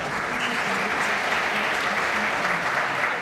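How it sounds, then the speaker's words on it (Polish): Steady, dense applause from a graduation ceremony audience at a master's degree event, continuous and fairly loud throughout, with no one speaking over it. "We already applaud, even though she hasn't said anything."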